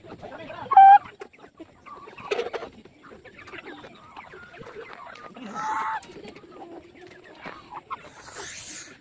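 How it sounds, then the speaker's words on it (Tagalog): Chickens cluck and squawk in scattered bursts, fairly close, with other bird calls and a few quiet voices in the background. "Look at those chickens."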